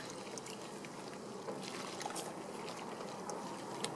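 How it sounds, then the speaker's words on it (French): Water running over a car's bodywork to wet it before a professional shampoo: a soft, even splashing and trickling that continues without a break, faint and at some distance. "Vous pouvez mouiller la carrosserie comme ça"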